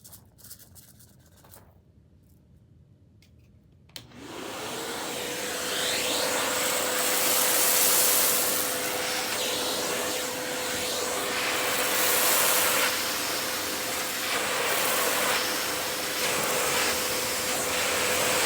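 After a few quiet seconds, an Oreck DTX 1300 vacuum cleaner with its upholstery tool starts up and settles into a loud, continuous motor drone with a steady high-pitched whine, its airflow rising and falling slightly as it works.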